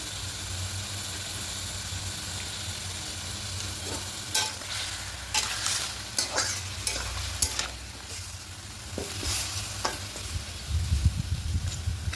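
Lemon chili chicken, just salted, is stirred in a pan: soft sizzling under a low steady hum, then bursts of scraping and tossing strokes, close but fairly quiet.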